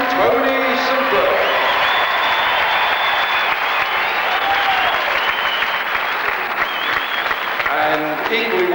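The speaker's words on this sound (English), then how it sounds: "your applause for the winner by 2 to 1, the British champion, Tony Sinclair." Audience at a 1979 British professional wrestling match applauds the winner, a sustained, loud wash of clapping and crowd noise lasting several seconds, with faint announcer-like tones near the start and end.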